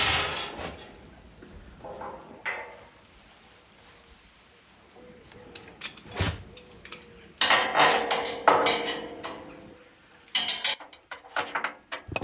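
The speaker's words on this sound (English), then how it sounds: "I'm going to use a piece of threaded rod and a couple of sockets" Chassis bushes on a galvanised Land Rover Series III chassis are drawn in using threaded rod and sockets. Close, irregular metallic clicks, ticks and clanks come in scattered bursts that grow busier toward the end.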